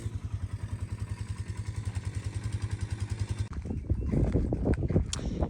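A custom-built four-wheeler on 26-inch wheels with 50-inch BKT tires and 8-inch dual idler portals idles in a fast, even engine pulse. Then the throttle opens into a louder, rougher rev with clattering bursts close by.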